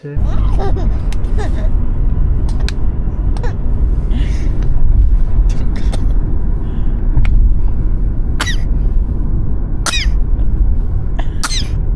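An eight-month-old baby coughs several times in short, sharp bursts spread irregularly across the scene, close by, over a rumbling background with some nearby voices.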